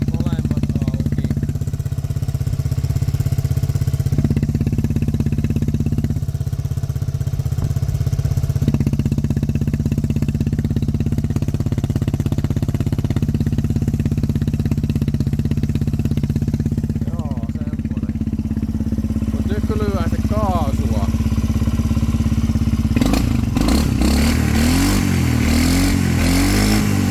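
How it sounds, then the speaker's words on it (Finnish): ATV engine running lean, popping back into the exhaust: a close, loud idle that rises and falls with throttle changes, ending in rougher, clattering revs near the end. "kuulitte varmaan, niin se ampuu vähän putkeen, eli tää käy nyt laihalla"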